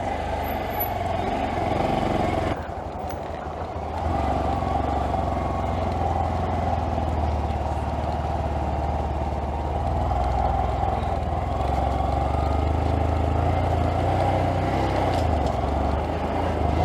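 A Honda Monkey motorcycle's small engine runs steadily and close as it turns around on a congested street in Edinburgh, with a brief dip in the drone partway through and continuous traffic rumble around it.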